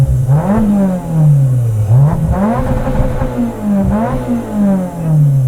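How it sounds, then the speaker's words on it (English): A manual Vauxhall Corsa drag car revving hard on the spot, the engine climbing and dropping in repeated rises and falls, loud and close with no talk. "Give us a rev for the camera."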